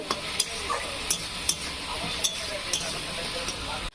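Chili powder and spices sauté in a pan for restaurant-style chili paneer, a soft, steady sizzle with light clinks and spoon taps against the pan at irregular intervals.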